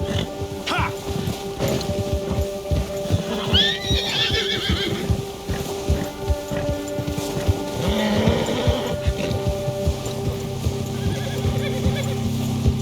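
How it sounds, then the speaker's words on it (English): A horse in the video game Red Dead Redemption 2 whinnies loudly twice and snorts while its hooves clip-clop over a trail, with wind or rain underneath. "Get that horse in line, Arthur!"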